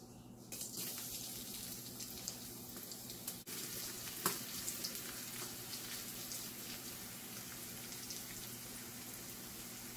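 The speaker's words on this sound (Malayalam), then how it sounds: "കുറച്ച് വെളിച്ചെണ്ണ ഒഴിച്ച് ചൂടാക്കിയിട്ടുണ്ട് അതിനകത്തോട്ട് ആദ്യം കടുകിടാം" Mustard seeds and onion sizzle steadily in hot coconut oil in a pan, a close, even frying hiss broken by a few sharp pops and clinks.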